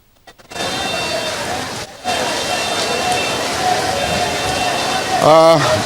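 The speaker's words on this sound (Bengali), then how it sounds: "এই অঞ্চলটার ভিতর এখন শিলাবৃষ্টি হচ্ছে" Steady, dense patter of hailstones drumming on surfaces during a hailstorm on a road, loud and continuous throughout, with a brief lull and rising pitched tones near the end.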